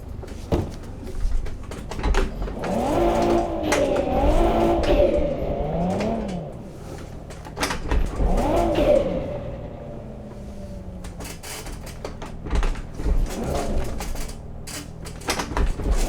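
Video-game car engine revving and shifting pitch while reversing slowly into a parking spot, loud and continuous with rising and falling tones and some clunks, no talking.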